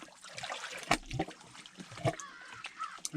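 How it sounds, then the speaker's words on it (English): Small lake waves slosh and lap against a rocky shore beneath an overhanging rock wall, in faint irregular splashes and trickles over a quiet outdoor background. "I wouldn't have known about it if I hadn't heard the waves sloshing."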